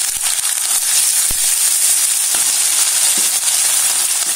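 Spice paste, garlic and onion fry in hot oil for a Bengali bata fish curry, giving a steady close sizzle and hiss with a few faint clinks from the pan.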